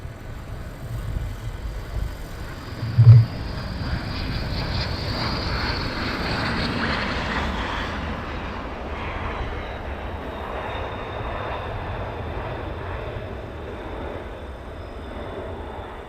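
An aircraft rolls out after landing and taxis at RAF Lakenheath, a steady broad engine roar with a whining tone that holds for about sixteen seconds, loud and fairly close.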